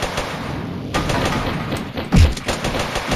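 Rapid, dense gunfire from the Mini Militia mobile shooter game runs continuously, with a heavier thumping burst near the end.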